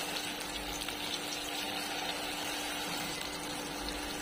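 Corn pakoda batter frying in hot oil on a stove, giving a faint, steady bubbling sizzle that runs evenly and unbroken, with no voices.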